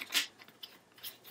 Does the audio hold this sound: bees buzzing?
no